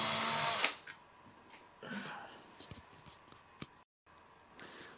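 A power drill spins briefly and loudly while backing screws out of a failed BMW i3 AC compressor, followed by scattered clinks and handling noises of parts.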